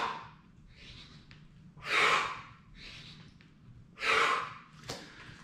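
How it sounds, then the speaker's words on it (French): Heavy, rhythmic breathing during push-ups, alternating softer inhales with stronger, louder exhales roughly every two seconds, close and alone without talk. "vous allez inspirer lors de la descente. Et expirez lors de la montée."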